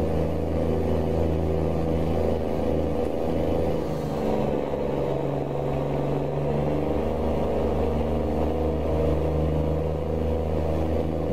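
A heavily loaded truck with a failing engine labours uphill in a steady, low, droning rumble with a strained tone that never lets up, close and loud inside the cab.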